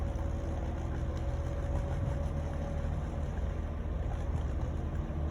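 A Jeep engine on an offroad trail runs steadily at idle, a low droning hum with a faint even tone, close and constant with no talk.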